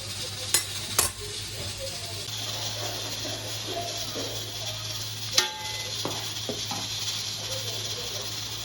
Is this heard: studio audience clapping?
no